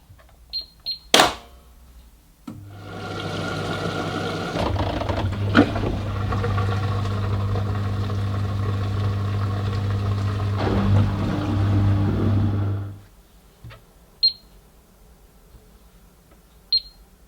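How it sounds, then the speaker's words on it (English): A Miele washing machine runs its TwinDos maintenance program, opening with a few button beeps before a steady pump-like hum and whir takes over for about ten seconds and then stops, followed by more isolated beeps. "when I press the start button, the machine will run the same maintenance program through compartment number 2"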